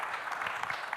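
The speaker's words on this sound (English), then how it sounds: "A round of applause for this wonderful panel." Brief, steady audience clapping for a panel at the 2026 World Governments Summit, an even, continuous wash of hands heard from within the hall for about a second.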